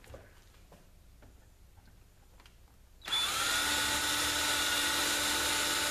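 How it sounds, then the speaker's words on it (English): Power drill boring a hole through the wooden floor of a birdhouse, starting abruptly partway in and running loud and steady, close up, after a quiet stretch with faint taps and handling sounds. "We are going to drill a hole from the bottom of the floor to the left side here."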